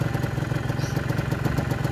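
A two-stroke motorcycle engine runs roughly on choke, pulsing in a fast, uneven chug close to the microphone. It sounds like it is labouring and near stalling, with no voices over it.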